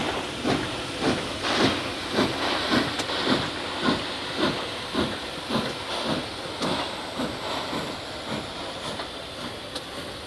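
Pere Marquette 1225 steam locomotive hisses steadily, with rhythmic chuffing bursts about every half second over a continuous steam wash, heard from moderate distance with no voices.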